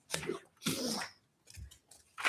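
A single sneeze during a county board of commissioners meeting, a sharp burst followed by a second smaller sniff-like sound, heard fairly close in a quiet room with no talk over it.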